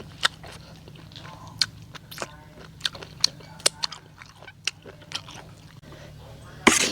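A Thai rice noodle salad with fermented fish sauce is eaten close up, giving a string of sharp, irregular bites and wet smacks. Faint chatter can be heard behind them.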